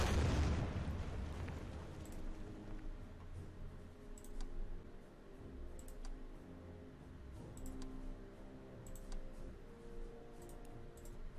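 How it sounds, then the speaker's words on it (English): Artillery fire against a bunker in Order of Battle: World War II opens with a heavy boom, then fainter scattered pops and clicks trail on as the game plays quietly. "Guess I'm gonna use my artillery on the next bunker."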